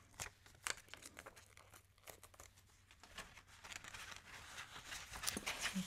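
Paper folded and crinkled at a retro 1966 Pan Am flight check-in counter, with soft, close, intermittent crackles and crisp tearing-like rustles that come and go over quiet background, and no voices.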